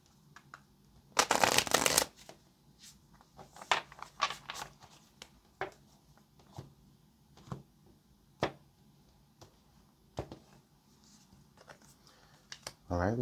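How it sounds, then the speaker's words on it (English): Tarot cards are shuffled during a reading: one loud riffling burst near the start, followed by a string of sharp, scattered card snaps and taps at irregular intervals, close by, with a voice talking quietly at times. "let's get this last shuffle"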